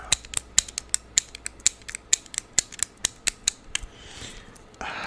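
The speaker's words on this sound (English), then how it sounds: "Another like light switch thingy almost that clicks as well." Sharp, rapid clicks from a small switch-like clicker repeat in a quick, slightly uneven rhythm, close and crisp, then stop near the end.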